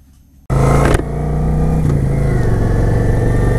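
A Kawasaki Vulcan 900 motorcycle engine starts abruptly after near-silence, then settles into a loud, steady close-up idle with a brief rev bump early on.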